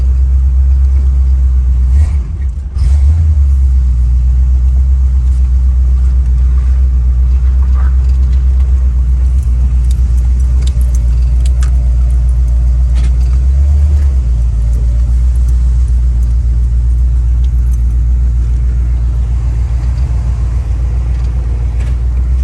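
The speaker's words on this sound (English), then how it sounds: "I'm just driving my car, man." A Chevy Nova cruising on the road, its engine giving a loud, steady low rumble that holds unbroken from start to finish, with a brief bump in the sound early on.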